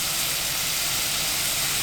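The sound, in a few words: cod with mirin sizzling in a pan over high heat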